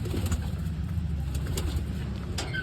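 Low pigeon cooing repeats close by, soft throaty calls over a steady background hum.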